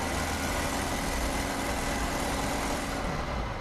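Toyota Previa van driving, its uninsulated engine mounted right under the front seats: a loud, steady droning roar with broad rumble and hiss that holds level for the whole stretch, close and unbroken, with no voices.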